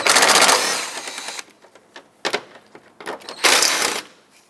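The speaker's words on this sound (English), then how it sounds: "Let's remove the two 10mm bolts that hold on the air intake here." A power ratchet whirs in rapid bursts while removing 10mm bolts from a Mazda 6 air intake, two loud buzzing runs separated by quieter clicks and handling noises, close up.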